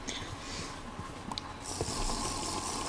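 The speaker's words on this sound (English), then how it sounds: "Drink some water." Water being drunk in the farming-magic game Magiculture 2, a steady gurgling, splashing liquid sound that swells brighter and fuller halfway through, heard alone without talk.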